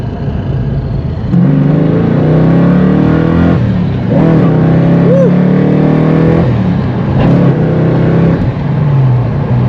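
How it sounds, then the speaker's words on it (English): A supercharged Foxbody Mustang accelerates hard through the gears, its engine roaring loud and close with rising revs, and a short tire chirp sounds in third gear as people talk over it. "nice little chirp there in third"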